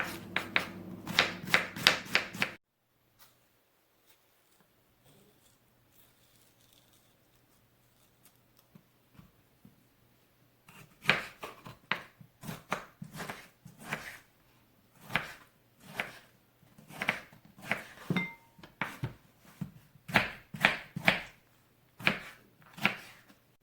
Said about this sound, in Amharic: እና እንደዚህ ነው የምከታተፈው።